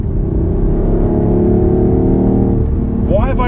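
A BMW i8 hybrid supercar engine drones steadily and loudly from inside the cabin for about three seconds, then the tone shifts and rises near the end as it accelerates.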